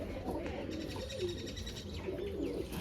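Soft, low cooing of high-flying contest pigeons murmurs repeatedly in the background, faint and close, with no talking.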